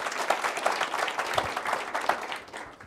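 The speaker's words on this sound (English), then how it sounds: "A warm hand of applause." Audience at a live event breaking into warm applause, a dense, steady patter of many hands clapping close by for about three seconds before tapering off.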